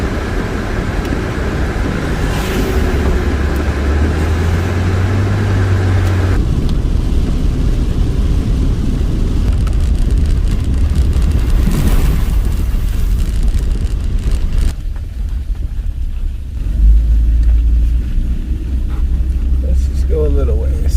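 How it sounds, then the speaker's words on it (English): Steady rain and gusting wind beat on a car driving on a freeway near Young, Arizona, a dense constant roar with low road rumble and shifting gusts throughout. "It's raining pretty good here, as you can see"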